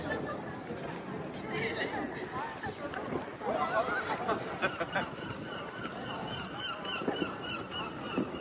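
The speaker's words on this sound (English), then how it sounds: "Loads of birds making noises." Geese honking in a noisy outdoor crowd on Southend High Street, with steady chatter and people talking throughout.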